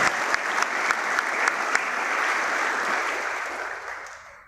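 Audience applause at a national student gala for the GSI programme, a dense wash of many hands clapping that holds steady and then fades out.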